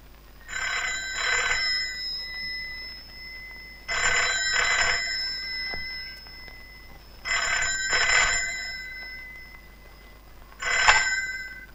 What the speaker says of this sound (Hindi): हाँ लो बात कर, इरा का फोन